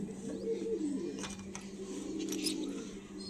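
Pigeons cooing softly at close range, low rolling coos repeating over a few seconds with faint background noise.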